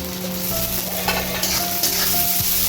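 Garlic, green chilli and onion fry in hot oil in a wok, with a steady close sizzle and a few scraping stirs running throughout.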